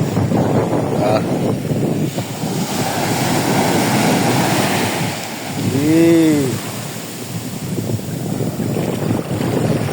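High ocean waves wash and surge continuously onto the beach at Pamana Beach Resort, Jomalig Island, amid strong wind buffeting the microphone, with a brief warbling tone and faint voices mixed in.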